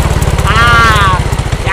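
A motorcycle engine runs steadily up close with a low, pulsing idle throughout, while a voice calls out over it.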